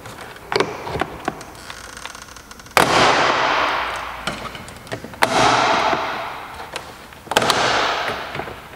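Plastic door panel clips on a BMW X3 popping loose as the trim is pried off, a series of sharp snapping cracks, a few small ticks and three loud pops with rattling tails, close and alone.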